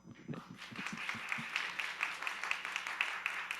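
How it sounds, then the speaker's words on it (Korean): Church youth service congregation clapping to welcome guests, a moderate, steady patter of applause following a brief voice at the start. "많이 박수로 한번"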